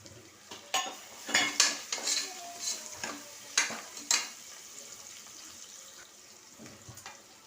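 Browned onions frying with crushed ginger and garlic for veg biryani, stirred in a pan: a run of sharp scrapes and clinks from the spoon over a low steady sizzle, nearby and unaccompanied.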